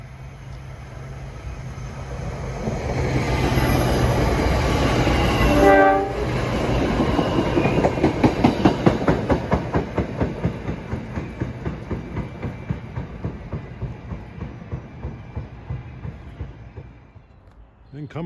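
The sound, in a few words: Arrow MU commuter train approaching and passing Mountain Station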